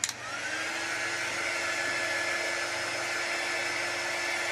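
A hair dryer blows on an etched craft piece, switching on with a click and then running as a loud, steady whirring hum from start to finish.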